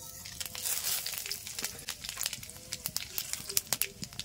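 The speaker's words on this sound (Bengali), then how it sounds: "তো তেল গরম হয়ে গেছে, এবার দিয়ে দেবো ফোড়ন।" Whole spices tempering in hot oil for a Bengali jackfruit curry, crackling with close, irregular pops and sizzles that grow sharper toward the end.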